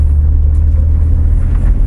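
A BMW E46 330 engine with new header and exhaust idles steadily close by, a deep, even rumble with a slightly throaty exhaust tone and no talking.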